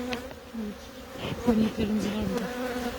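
Honeybees buzzing steadily around an open hive during a spring inspection, a close, continuous drone with small rises and dips in pitch.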